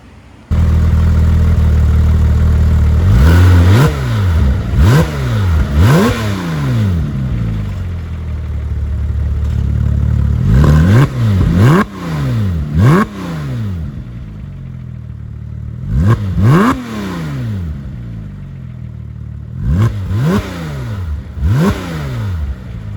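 A Porsche 997 GT3 with a side delete exhaust fires up and is revved repeatedly, sharp rising and falling blips in separate bursts with a settled idle between them, loud and close.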